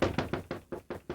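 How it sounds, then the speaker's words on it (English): Someone knocks on a door on a rainy night, seven firm, evenly spaced raps in quick succession, close and fairly loud with nothing else around them. "somebody's at the door."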